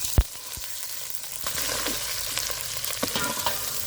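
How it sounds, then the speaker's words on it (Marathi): Stone-ground masala with red Kolhapuri chilli powder and cumin roasting in hot oil, a close, steady crackling sizzle after one sharp knock at the start, with faint scraping stirs and no voices. "मसाल्याला तेल सुटेपर्यंत चांगला तेलात भाजायचं."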